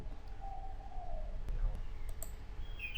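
A few sharp computer mouse clicks, made while setting email-open tracking options in GetResponse email marketing software. The clicks are isolated and fairly crisp over a low background hum.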